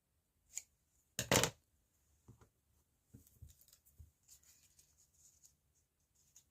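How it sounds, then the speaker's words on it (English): Scissors snipping paper while preparing ephemera for a junk journal, with one sharp, close cut followed by softer rustles, light taps and small snips in a quiet room. "Cut a strip of it, or a piece off."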